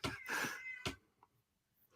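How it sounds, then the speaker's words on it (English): A cat yowling outside a door, two drawn-out pained meows close by, the first long and the second brief, followed by faint knocks and quiet. "That is my cat desperately wanting to get into the cat-free zone."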